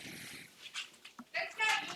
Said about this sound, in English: Oh, is that your dog?